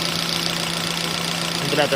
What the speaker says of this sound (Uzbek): Motor ishlab turibdi.